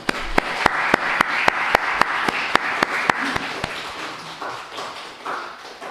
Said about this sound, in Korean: 우리 성도님들, 우리 중직자분들 힘내라고 박수 한번 해주십시오.